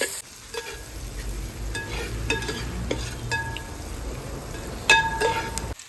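Onions fry in a hot uruli pot for a country chicken curry, a continuous close sizzle broken by occasional metallic clinks and scrapes from stirring.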